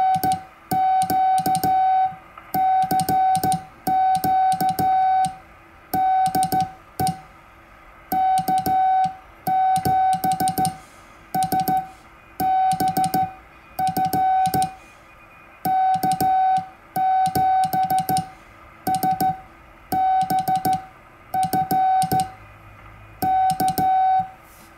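Morse code sent by hand on a vintage 1930s Speed-X bug key comes through as steady beeping tones in irregular groups of dots and dashes, with short pauses between characters, over a faint background hiss.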